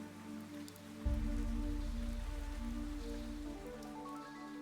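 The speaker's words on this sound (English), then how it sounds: "But even the rain soon began to weaken." Steady rain falls in the video game Fantasian Neo Dimension, a soft continuous hiss of drops on a surface. It sits under sustained musical tones, with a low swell entering about a second in and holding to the end.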